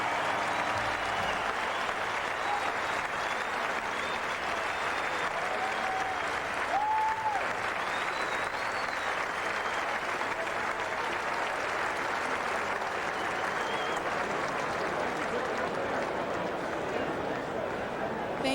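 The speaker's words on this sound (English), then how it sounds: "Let's give these folks one final lusty round of applause." A large ballpark crowd at a San Francisco Giants opening day pre-game ceremony gives a long, sustained round of applause that holds a steady roar from start to finish.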